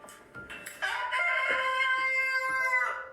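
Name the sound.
pet chicken clucking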